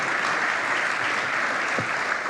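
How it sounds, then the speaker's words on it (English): An opening ceremony audience claps in sustained, dense applause that fills the hall, loud and continuous with no voices over it. "So please, an extra round of applause for him."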